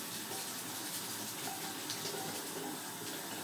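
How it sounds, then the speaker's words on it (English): Tap water runs steadily as a battery-damaged Commodore A501 RAM expansion circuit board is rinsed, producing a continuous broadband splashing hiss throughout. "scrub this and rinse it with some water"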